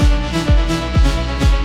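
A melodic techno synth lead recreating the one from a track plays loud and upfront, layered over punchy kick drums that thump about twice a second with sustained tonal notes between hits.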